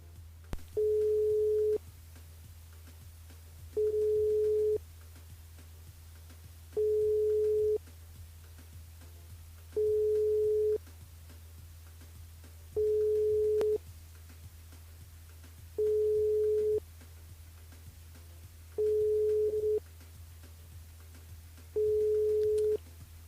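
A telephone line tone plays while a live radio show calls a listener: eight evenly spaced tone bursts over a steady low hum, with no speech.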